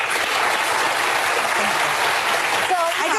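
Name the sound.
studio audience clapping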